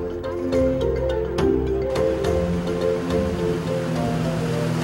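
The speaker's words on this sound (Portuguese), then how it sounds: "Embrenhada na mata da fazenda, a cachoeira de águas limpas servia para o banho dos viajantes" A clean-water waterfall hidden in the forest of a farm, heard as a steady, dense rush of falling water that runs unbroken throughout, fairly close, with no one speaking.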